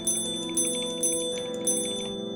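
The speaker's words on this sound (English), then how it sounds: "I'll keep ringing this bell until you do something." A bell in the video game OneShot rings out in four bright, evenly spaced strikes, each leaving a sustained metallic ring that overlaps the next, loud and close over a steady tonal game music bed.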